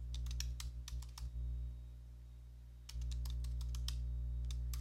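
Quick bursts of computer keyboard typing, clicking keys in two short runs separated by a pause of about a second and a half, close and clear over a faint steady hum.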